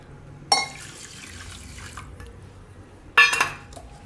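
Water poured from a vessel into a pan holding sugar, in a home kitchen making pomegranate juice syrup; two short splashing pours, one near the start and one near the end, with quiet between.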